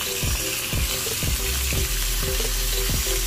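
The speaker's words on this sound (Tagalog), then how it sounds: "Ang sunod nating ilalagay yung ating atay at balon-balunan." Chicken liver and gizzard sauté in a hot pan for chopsuey, a steady close sizzle with repeated stirring scrapes of the spatula throughout.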